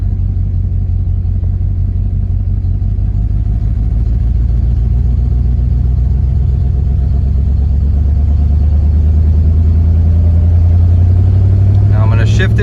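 A 1993 Ford Mustang GT with a 5.0L V8 and AOD automatic transmission running in drive, a steady low engine rumble and drivetrain hum held loud and close throughout, a faint rattle rising near the end.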